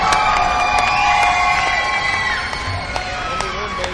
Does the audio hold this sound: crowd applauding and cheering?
yes